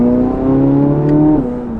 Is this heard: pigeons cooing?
no